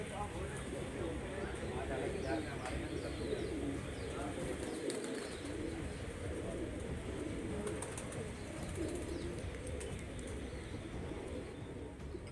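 Pigeons coo at a pigeon keeper's home in Lucknow, a soft continuous murmur of bird sounds under steady background noise, with faint chirps throughout.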